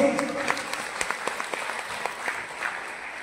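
Audience applause at a Sambalpuri comedy show, a steady crowd clapping with distinct sharp claps standing out, fairly close, while a voice speaks faintly over it.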